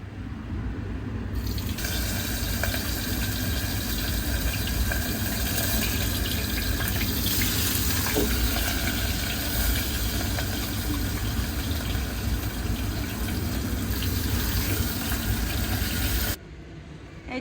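A piece of fish fries in hot oil in a home kitchen, giving a loud, steady sizzle that holds for about fifteen seconds and then cuts off abruptly. No one speaks.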